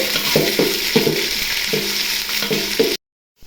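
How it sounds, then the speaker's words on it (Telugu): Onion pieces fry in a pan for mushroom biryani, with a loud, dense sizzle and rhythmic stirring scrapes about twice a second. The sound then cuts off abruptly. "ఉల్లిపాయ ముక్కలు బాగా వేగనివ్వాలండి"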